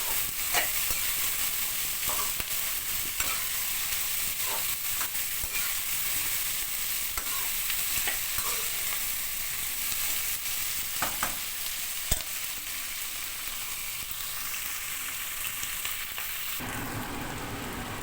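Onions frying and browning in a pan, a steady dense sizzle with scattered soft stirring clicks and scrapes throughout, fairly close, with no voices; the sizzle thins and changes near the end.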